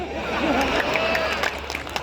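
Audience clapping from the back of a hall at a Hindi poetry event, a scattered crowd applause with cheering mixed under a speaking voice.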